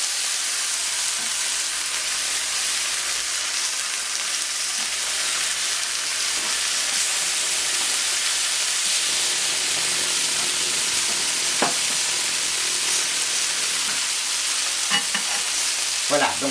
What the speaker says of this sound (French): Pendant que les tomates cuisent